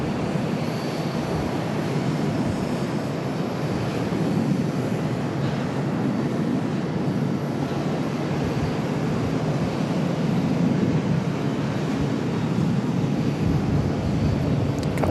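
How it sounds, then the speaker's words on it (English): Boeing 737 departing from the center runway at Charlotte airport, a steady broad roar of jet engines heard from a distance that holds evenly throughout with no voices. "That 737 departure from center, absolutely an amazing looking shot from here."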